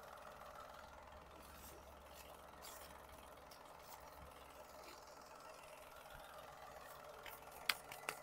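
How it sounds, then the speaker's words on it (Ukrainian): A 2016 Citroen C4 Cactus engine idles quietly in a steady, faint, even hum with no talk over it. "Мотор працює дуже тихенько, заводиться дуже легенько"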